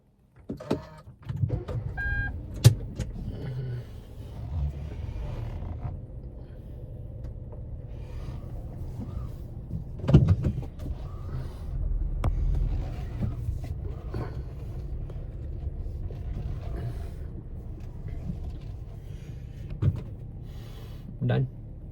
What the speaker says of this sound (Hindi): अब मैं गाड़ी रिवर्स करूँगा.